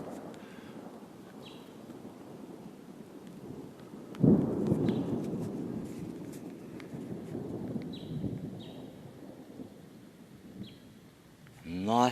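Thunder rolls through a thunderstorm just as rain begins, breaking in with a sudden loud crack and then a long rumble that fades slowly under wind noise.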